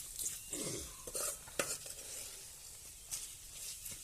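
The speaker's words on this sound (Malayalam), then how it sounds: "എല്ലാ മസാലയും അങ്ങോട്ട് ചേർത്ത് കൊടുത്തിട്ടുണ്ട് ഇവിടെ ഉപ്പും കൂടി അങ്ങോട്ട് ഇട്ടിട്ട് ഇളക്കുക" A utensil stirs Kerala-style beetroot pickle with spices and salt in a pan, giving soft scraping and clinking strokes over a quiet, low sizzle, fairly faint and close, with no voices.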